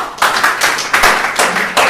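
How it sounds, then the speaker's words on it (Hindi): Short, loud, close clapping for a speaker at a motivational talk, coming in a few uneven bursts over barely two seconds rather than sustained applause. "तो एक बार सर के लिए जोरदार तालियां हो जाएं"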